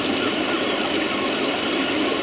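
Water draining out of a koi pond filter chamber past an internal flap, a steady, even rush of flowing water with no pauses, close and continuous.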